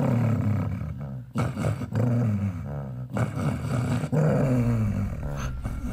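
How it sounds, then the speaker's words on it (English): A wolf growls in the Undertale video game as a loud, rumbling snarl that repeats in several long surges broken by brief pauses. "It's probably a wolf."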